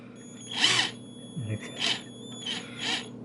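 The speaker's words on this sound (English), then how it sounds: "see if we can give it a slight test drive" A WAKYME 12.6V cordless drill driver whirs in several short bursts with pauses between, making an odd noise, close by, with faint speech-like sounds in between.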